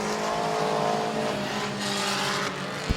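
Race cars roaring around Midvale Speedway, a loud continuous engine drone with shifting pitch as cars pass, tire noise and a short thump at the end, no talk.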